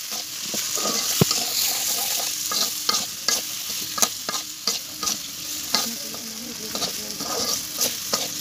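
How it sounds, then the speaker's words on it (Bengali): Spices with salt, chili and turmeric being stirred as they fry in a pan over a cooking stove at a picnic, a steady sizzle broken by repeated scraping strokes of a spoon, close and continuous. "ভাজার জন্য অপেক্ষা করুন। আমরা ভালো করে নাড়াচাড়া করে নেব।"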